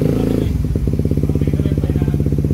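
A Suzuki GSX-S150 motorcycle engine during fine tuning, heard close and loud as a rev drops into a fast, rhythmic, pulsing idle.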